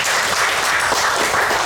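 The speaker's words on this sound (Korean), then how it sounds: "박수 한번 주십시오" Dense, steady applause from a large crowd at a political gathering, continuous and loud throughout.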